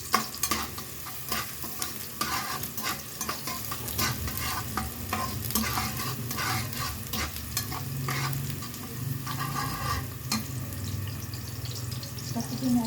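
Onions sautéing in a pan with salt for garlic fried rice, a continuous close sizzle and crackle under repeated scraping stirs of a utensil.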